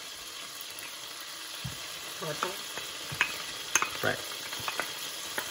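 Four cloves of minced garlic hit a hot pot and sizzle steadily for a one-pot chicken pesto pasta, with soft stirring scrapes layered over the frying and a brief spoken word.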